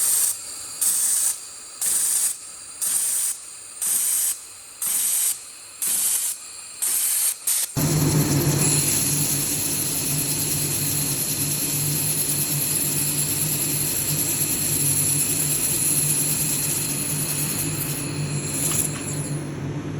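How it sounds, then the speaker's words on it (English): A 1500W laser welding machine fires a series of regular spot-weld pulses, each a short hissing burst, before settling into a continuous loud hiss with a steady hum underneath, with no voices. "Let us enjoy the scheduled spot welding."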